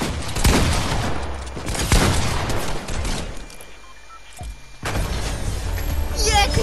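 Loud bursts of gunfire ring out during a one-on-one video game match, coming in clustered volleys separated by short lulls.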